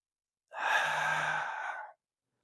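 A deep breath taken during a Pilates exercise, one smooth airy inhalation lasting about a second and a half, close and clear, with silence before and after.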